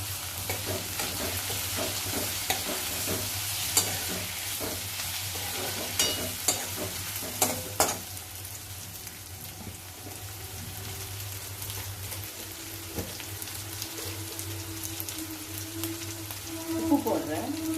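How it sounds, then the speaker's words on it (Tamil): Chopped Bangalore tomato goes into onions frying in a pan and is stirred, with a steady sizzle, scraping and clinking from the spoon, and a few louder knocks. "இப்போ ஒரு தக்காளி நறுக்கி வச்சுருக்கேன், பெங்களூர் தக்காளி. இதை அதில் போடணும்."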